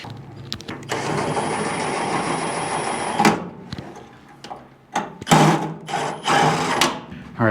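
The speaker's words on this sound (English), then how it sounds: "Let me get a bolt started real quick." A power tool runs in a long whirring burst, then short bursts and clanks follow as a bolt is tightened on the throttle cable of a Chevy COE truck in a workshop.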